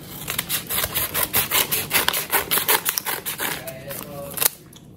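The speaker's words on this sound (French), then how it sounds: "j'étais partie dans l'idée d'utiliser un ciseau" Scissors snip and rasp repeatedly through a package envelope, a rhythmic run of close, loud cutting strokes that ends in a final sharp snip before quiet.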